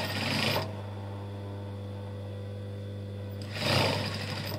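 A sewing machine topstitches a zippered pouch with its lining, running in two short whirring bursts over a steady low motor hum, close and clear with no talking.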